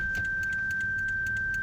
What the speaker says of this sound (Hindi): गाड़ी स्टार्ट है अभी।